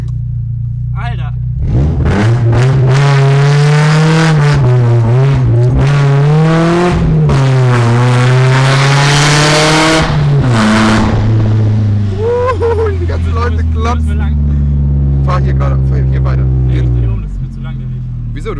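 A BMW E36 engine revving hard while driving through town, its loud, close drone rising and falling through the gears before settling to a lower idle-like hum near the end, with brief faint voices in the cabin.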